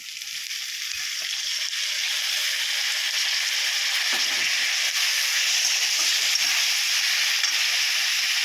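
Chopped potato, fried spices and washed mung dal sizzle in a pan for murighanta, a steady bright hiss of frying that runs unbroken and fairly loud with no voices.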